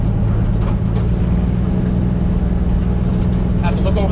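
A Fox Body car fitted with a 1JZ engine, heard as a steady loud droning engine note held at raised revs throughout, with no clear rise or fall.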